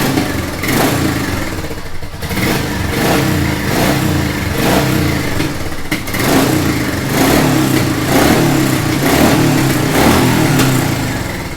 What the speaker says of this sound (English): And that is the very familiar Royal Enfield sound.